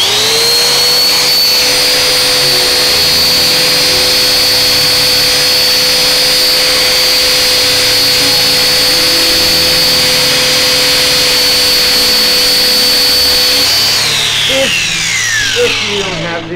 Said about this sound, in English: I'm using a hand grinder here, and it makes a lot of noise